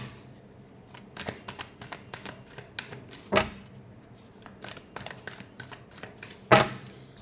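Tarot cards are riffled and tapped in repeated quick bursts, close and crisp, with two louder snaps as the deck is squared during a final shuffle.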